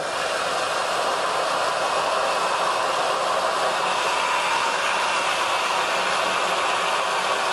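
A restaurant blender whirs steadily as it purées soup with a side towel draped over the top in place of a lid, a loud continuous motor drone that stays even throughout.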